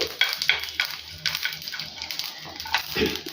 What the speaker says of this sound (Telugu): ఆయిల్ వేడెక్కిన తర్వాత పోపు గింజలు యాడ్ చేసేసుకొని ఫస్ట్ బాగా ఫ్రై చేసుకోవాలి